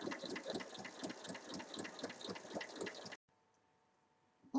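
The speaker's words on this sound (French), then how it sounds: "Ensuite, on vient faire une surpiqûre tout le long à 1 mm." A sewing machine stitches rapidly in an even rhythm while topstitching along a pencil case, running for about three seconds before stopping abruptly into near silence.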